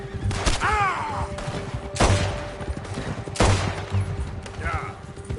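Gunfire in the video game Red Dead Redemption 2, several loud close shots in irregular bursts a second or two apart, with brief voices and game sounds between them.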